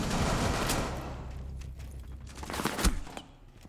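Gunfire in Rainbow Six Siege during a pro esports match, as the defender Frost shoots out from the library toward the attic: a fast burst of shots with dense, loud bursts early and another sharp report near the end.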